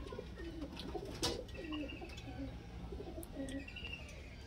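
Pigeons in a loft keep up soft, repeated throaty coos with light chirps close by, over low background noise.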